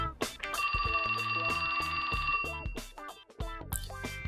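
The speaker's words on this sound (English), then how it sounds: "That's my phone." Phone ringing with a rapid trilling bell-like ring tone, loud and sustained for about two seconds, with other game sounds and music around it.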